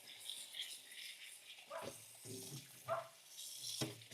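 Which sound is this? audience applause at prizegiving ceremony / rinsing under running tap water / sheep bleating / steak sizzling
rinsing under running tap water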